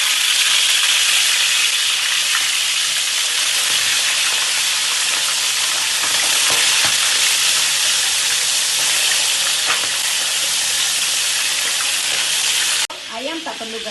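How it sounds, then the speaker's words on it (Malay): Chicken pieces fry in hot oil with a loud, continuous sizzle and crackle close by, which softens slightly near the end. "Minyak dah panas, kita goreng ayam dulu"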